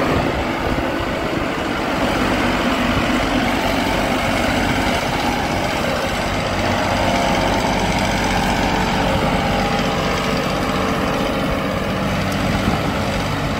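Tractor engine running steadily during a ploughing demonstration in a field, a loud, continuous low diesel drone and rumble without pause, with no voices over it.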